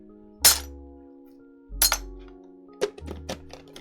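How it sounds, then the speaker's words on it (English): Plastic keyboard keycaps clinked together by hand, three separate bursts of bright clicking clatter, each a short cluster of sharp ticks with quieter gaps between, close and crisp. "Box shake is evil, but clinking them together is nice."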